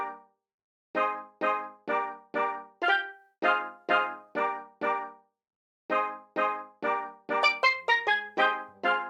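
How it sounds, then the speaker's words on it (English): Synthesized steel drum from the Nexus plugin playing a bouncy tropical pattern for an R&B beat, bright struck notes in repeated short phrases with gaps, ending in a quicker run of higher notes. "So I went to Nexus and I wanted to grab like a steel drum just to give it a more tropical effect to the beat."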